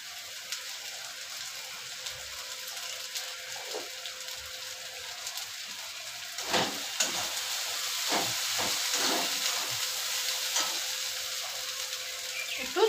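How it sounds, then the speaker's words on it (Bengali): Spice paste with green chilli fries in oil with a steady steamy hiss and sizzle, broken by scattered spits and stirring scrapes that grow busier partway through. "মশলাটা ভালো করে একটু কষিয়ে নিই।"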